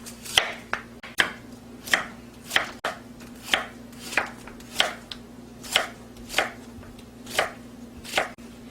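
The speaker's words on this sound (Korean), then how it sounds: "약간 도톰하게 썰어주세요." A knife chops radish into thick slices on a board, about fifteen crisp, evenly spaced knocks over a low steady hum, close and clear with no voices.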